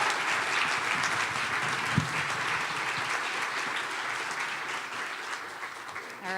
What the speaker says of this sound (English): can we get a quick round of applause for our wonderfully talented volunteers?